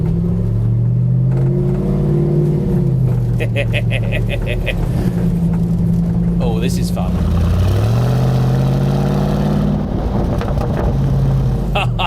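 The engine of a 575 bhp Bowler prototype Land Rover Defender revs and drones continuously at close range while driving, rising and falling in pitch as it accelerates, with a brief spoken remark over it.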